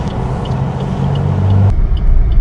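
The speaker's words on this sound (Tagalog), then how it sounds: "Traffic." Road traffic rumbles steadily through a city street beside a cemetery set in the middle of the road, with low engine drone and a brief hiss from a passing vehicle, loud and continuous with no talking.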